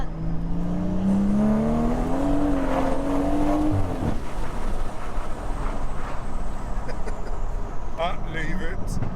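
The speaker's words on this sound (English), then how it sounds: "Can I now rev it?" A Stage 2 MHD-tuned BMW M140i engine revs up in a rising whine, then drops into a rough roar and crackling burble close by, with people talking over it.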